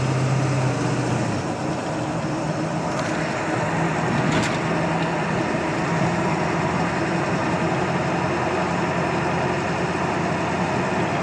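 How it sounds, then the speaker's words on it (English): A Ford 7.3 diesel idles rough, a steady, loud low rumble with a dense rattling texture, heard close and continuously with no voices. "it start idling really rough"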